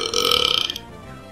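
A person lets out a loud, drawn-out burp lasting under a second, close to the mic, trailing off into quiet.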